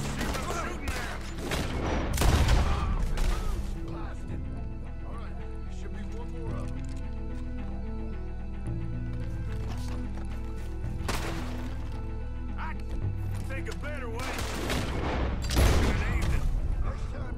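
Gunfire in the Western video game Red Dead Redemption 2, bursts of shots crackling around two and fifteen seconds amid game music and ambience, with voices talking throughout.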